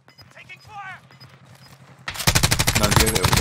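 Rapid automatic gunfire in the Warzone video game erupts loud and close after a quieter stretch with a voice speaking, a dense burst of machine-gun fire filling the second half.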